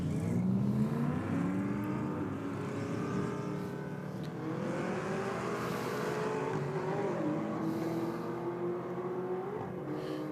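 A Camaro drag races down the track in a roll-start event, its engine roaring loud and close with a rising, climbing pitch as it accelerates through gears.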